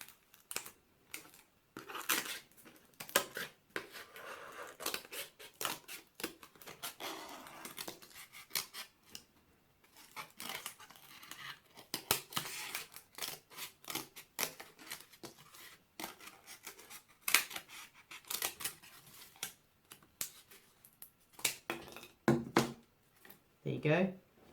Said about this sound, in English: it's easier to cut the rest of the shape out